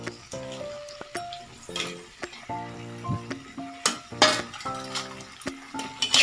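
Vegetables sizzling in a pan with softened tomato for pasta, the steady fry broken by repeated metallic clinks and scrapes of a utensil against the pan, close and unhurried, no voices.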